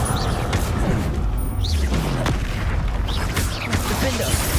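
Repeated Confringo blast spells exploding in a Hogwarts Legacy fight, low booms and crashes with sharp impacts and whooshing effects layered over steady game rumble.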